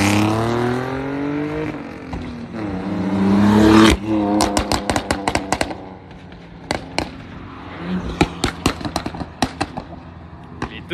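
BMW race cars, a 135i among them, on a track during a run session, with loud engine roar and revving that swells then drops into a rapid string of sharp pops and bangs, like backfires, close by.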